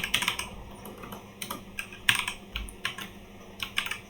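Program code is typed on a computer keyboard, close and fairly quiet, with irregular clusters of clicking keystrokes and short gaps between bursts.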